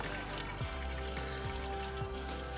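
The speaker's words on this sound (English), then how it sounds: "Draining the fuel, ready to put a new filter" Twenty-year-old fuel draining out of a classic Mini Cooper fuel line during a restoration, a steady close trickle and pour of liquid with faint low workshop hum beneath.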